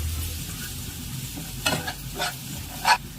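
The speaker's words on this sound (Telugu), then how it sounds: "ఇలా వేగుతున్న దాంట్లోనే కరివేపాకు కూడా వేసుకుంటాం" Curry leaves drop into hot oil with turmeric-coated masala for mutton liver fry, bringing a soft sizzle and several sharp crackling bursts as stirring goes on.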